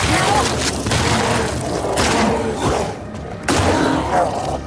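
Shotgun fire in the video game The Last of Us Part II, heavy booming blasts crashing one after another with a sustained thundering rumble and a brief dip before a final loud blast.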